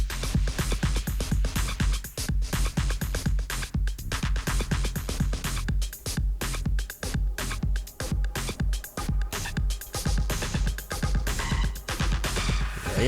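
A Gemini SLATE guitar effects pedal set to echo with feedback plays loud, dense repeated guitar notes whose repeats trail and stack rhythmically, sustaining throughout with no talking.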